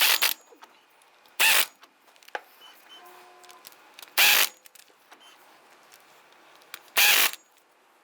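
A ratchet snugs down flange bolts on the front driveshaft of a 2002-2008 Dodge Ram 1500 in four short, close bursts of rapid clicking separated by quiet pauses with faint handling noises.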